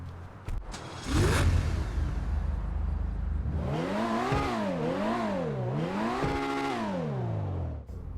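A video game supercar engine, the GTA 5 Online Autarch, revs up and down repeatedly in rising and falling sweeps after a loud whoosh, the roaring pitch climbing and dropping several times.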